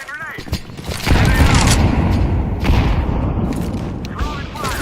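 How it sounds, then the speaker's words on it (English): A Counter-Strike 2 grenade blast heard as a loud broadband boom that rumbles for several seconds amid other gunfire, with brief voice-like sounds at the start and end. "Let's throw in a grenade."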